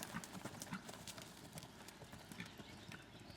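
Ridden horse's hooves clip-clop at a steady canter in an arena, a rhythmic run of soft thuds at moderate distance over faint background noise.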